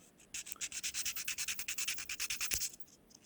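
A nail file scrubs rapidly back and forth across fingernails to rough them up before dip powder, around twenty quick, even rasping strokes close up with no voice.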